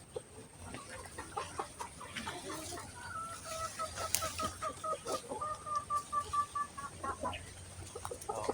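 Pet chickens on a farm cluck near the ground, a run of rhythmic, repeated clucks building in the second half, fairly close and faint, with a few higher calls and no talk.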